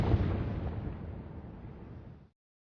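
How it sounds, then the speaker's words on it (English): Fireworks detonating in Burst, an indie rhythm video game, sound as one deep, booming burst that rolls on for about two seconds and then cuts off abruptly, fairly loud and heard alone. "players detonate fireworks to the beat of music"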